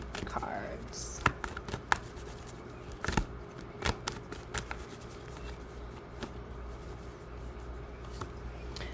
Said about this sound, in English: Just going to pull 4 more cards.